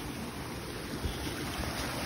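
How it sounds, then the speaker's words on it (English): Steady roar of a waterfall rushing through flooded woods, a constant broadband wash of water with no pauses, loud and close with no voices. "This is what I lovingly call Big Bertha. The waterfall, yes."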